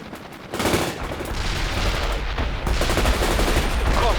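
Enemy gunfire in the real-time strategy game World in Conflict, continuous rattling machine-gun bursts and shots layered over rumbling battle noise, growing louder partway through.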